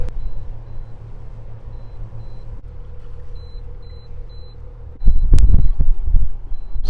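A boat's anchor controller emits a steady pattern of short, high electronic beeps at regular intervals over a low engine rumble aboard a sailing yacht, with a louder clunking burst near the end.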